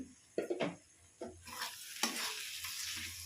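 Tomatoes with spices frying in a pan and being stirred, with a few quiet scraping strokes over a faint steady sizzle, heard close.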